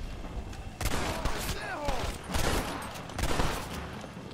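Gunfire in Red Dead Redemption, several close, loud volleys of shots in bursts about a second apart, with ricochet whines between them.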